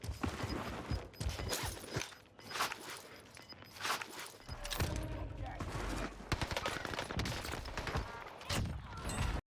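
Gunfire crackles in Call of Duty: Warzone near the prison area, where shots ring out from above. Dense bursts and scattered reports sit in a busy, noisy mix of game sounds.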